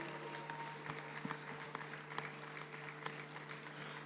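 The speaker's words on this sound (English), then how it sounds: "Can we keep the applause going, ladies and gentlemen?" A hall audience applauds a journalist being named journalist of the year at an awards ceremony, faint distant scattered clapping over a steady electrical hum, with a few sharper claps standing out.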